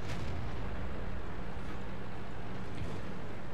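A tank cannon shot in the World of Tanks video game, a loud boom that rolls out over a dense, steady rumble of engine and battle noise.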